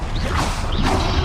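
A Confringo spell cast in the video game Hogwarts Legacy: two loud sweeping whooshes, each with a rising and falling swish and a sharp crackling edge, over a constant dense hiss of game effects.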